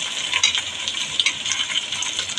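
Ground coriander, chili, turmeric and ginger paste frying in a pan in a village kitchen, a steady close sizzle with crackling bursts running throughout, no voices.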